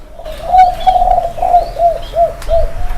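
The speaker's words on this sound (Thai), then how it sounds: "เป็นนกตัวเมียครับ นกตัวเมียฟังครับ" A female spotted dove coos close by in a series of about seven soft, hollow notes, an opening longer call followed by evenly spaced shorter coos, clear and loud against quiet background.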